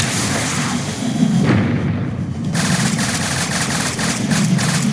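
Rapid, continuous minigun fire from a custom-built video game aircraft fitted with a rocket on one side and a minigun on the other, a loud dense rattle that dips briefly near two seconds before roaring back.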